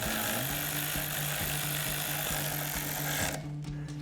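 A 10mm socket drives the bracket bolt on the back of the steering knuckle of a 2019-2024 Silverado 1500 during a 3-inch lift install: a loud, steady mechanical whir with regular rapid clicking pulses, cutting off just before the end.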